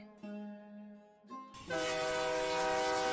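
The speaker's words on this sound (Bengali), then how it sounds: "ঝড়ের বেগে ট্রেন ছুটে চলে শহরের উদ্দেশ্যে।" A train horn blows a long, steady blast, cuts off briefly and then sounds again as the train rushes past. A loud, broad roar of rail noise builds under the horn and stays to the end.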